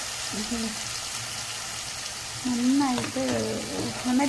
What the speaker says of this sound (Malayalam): ഉള്ളിയുടെ പേസ്റ്റ് ഇങ്ങനെ കളറ് മാറി വന്നിട്ടുണ്ട്